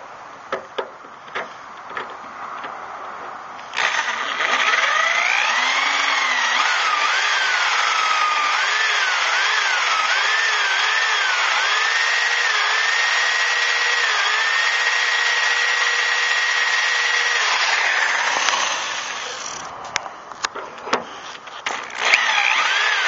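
A power drill whines steadily for about fourteen seconds drilling through metal on a Chevy S10 tailgate, its pitch wavering as it bites in, with loose clatter and knocks before and after.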